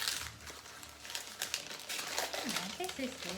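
Gift wrapping paper crinkles and rustles close by in a quick burst of handling during a Christmas gift exchange, with a voice chiming in toward the end.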